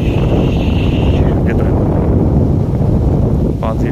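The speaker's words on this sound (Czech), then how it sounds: "Jo, fakt fouká." Gusty wind buffets the microphone outdoors at a fish pond harvest on the Buzický pond, a loud low rumble that continues throughout, with faint voices in the background.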